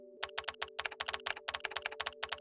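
Keyboard typing sound effects from an Opera GX Wii-style browser mod, rapid crisp clicks in an irregular quick rhythm over a soft background music tone.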